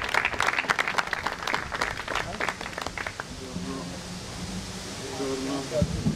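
Audience at a regional presentation event in Rionero, Basilicata, clapping in a lively, crisp burst that fades after about three seconds, then gives way to a voice speaking over quiet room ambience.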